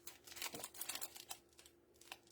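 A clear plastic bag is handled up close, its crinkles and rustles coming in quick irregular bursts with brief pauses between them.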